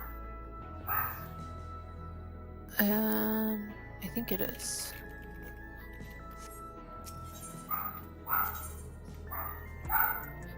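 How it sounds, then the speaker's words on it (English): A pet dog barks a few times in a home, short sharp woofs and yips spaced through the stretch alongside a person speaking nearby. "dog is barking"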